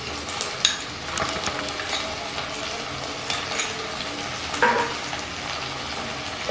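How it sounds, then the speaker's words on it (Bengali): Spice paste of chilli, garlic and ginger sizzling in a pan over low flame, a steady close frying hiss broken by a few scrapes and stirs. "তাই জন্য খুব সাবধানে এই মশলা কষার ব্যাপারটা করে নিতে"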